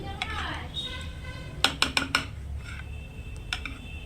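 A metal spoon stirs turmeric and Kashmiri chili powder into spices in a bowl, making a quick run of four or five bright clinks against the bowl and then a couple of softer taps, over a low room hum.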